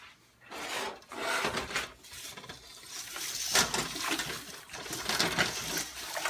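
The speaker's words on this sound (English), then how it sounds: "And then we're going to like stir everything." Jambalaya ingredients being stirred in a pot, giving steady close scraping and rubbing that swells and fades in repeated strokes, with no voices.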